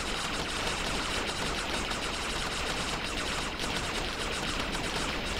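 A battle machine in the video game TerraTech fires its guns in rapid, dense bursts, a continuous rattle of sharp shots close up with little pause.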